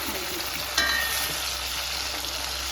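Chicken 65 pieces deep-frying in hot oil give a steady, close hiss of bubbling and sizzling, with a brief sharper crackle near the start; no one speaks.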